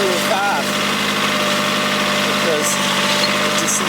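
A motor grader's engine runs at a steady idle-like rumble while trimming weeds, a constant near drone with faint metallic tones and a voice speaking briefly over it.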